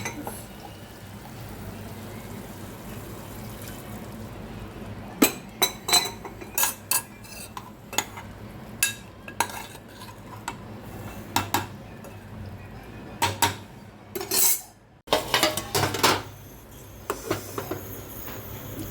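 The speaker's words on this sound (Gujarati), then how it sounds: "સહેજ પાણી નાખું." A little water goes into a pan of cauliflower curry amid clattering utensils, with sharp metallic clinks and scrapes scattered over a low steady background, close by.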